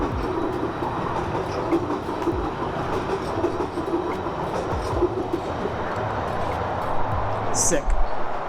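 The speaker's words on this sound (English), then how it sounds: "we have to wait for a train to come" A train rolls past at night near a railing, a steady rumbling wash with faint clickety-clack underneath, moderately close and continuous, with a brief brighter screech near the end.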